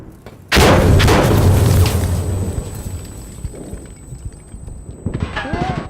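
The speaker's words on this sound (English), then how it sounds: "I'm throwing a grenade!" A grenade blast in the shooter game Insurgency Sandstorm, set at a refinery, erupts as a loud, close boom that rolls and fades over several seconds, followed by scattered sharp cracks of combat.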